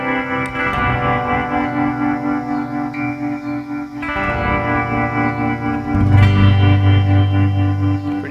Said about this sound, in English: is tremolo and reverb.